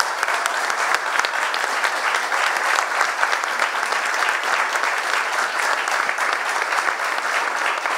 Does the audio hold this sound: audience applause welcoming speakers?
yes